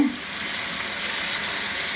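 Carrots and beef with cabbage cooking in a hot pan, giving a steady, close, dense sizzle that holds evenly throughout with no pauses.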